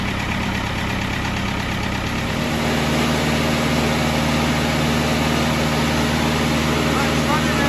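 A David Brown 996 tractor's diesel engine runs steadily nearby at full throttle, about 2,000 RPM, with a dense, continuous drone that settles into a firmer tone partway through, and someone speaks over it.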